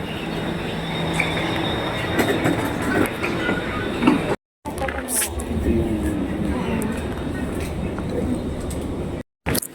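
A Singapore MRT train runs along the line toward Changi Airport with a steady rumble and clatter from inside the carriage, some wheel squeal, and people talking over it.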